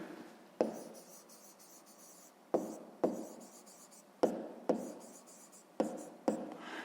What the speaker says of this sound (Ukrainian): а зараз записуємо тоді відповідь